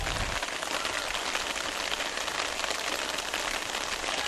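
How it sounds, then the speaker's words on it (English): Heavy rain pours down steadily during an outdoor high school game between Timberlane and Portsmouth, a dense, unbroken hiss of drops hitting the ground with no voices. "the rain continuing to come down hard"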